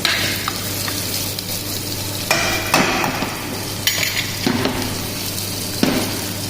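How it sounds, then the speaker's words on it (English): Ginger garlic paste is stirred into golden brown onions frying in a pan for a chicken kofta curry. A loud steady sizzle runs throughout, with a spoon scraping and clinking against the pan in irregular strokes. "We add little ginger garlic paste, okay, and have to mix."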